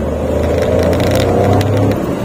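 A Suzuki Karimun Wagon 1000cc car labours up a steep climb in second gear, its engine droning steadily and loudly inside the cabin, with the pitch straining and sagging under load.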